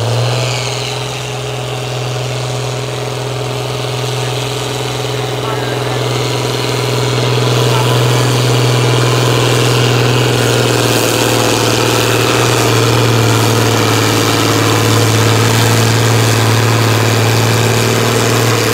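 Farm tractor pull engine with turbochargers at an FFA event, a loud steady heavy drone with a strong low hum, slowly building in intensity over a long stretch.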